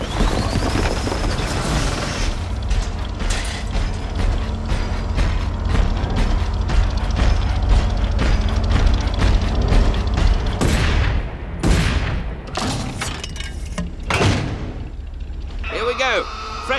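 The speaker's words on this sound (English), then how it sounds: "Artillery emplacement requisition." Artillery emplacement in the video game Iron Brigade deploys with steady mechanical clanking and ratcheting, then fires a series of loud booming shots in the last seconds, over constant battle rumble.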